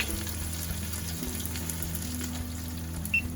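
Onions and celery sauté in bacon grease with a steady, low frying hiss and faint crackle, heard close and alone, with a low background hum.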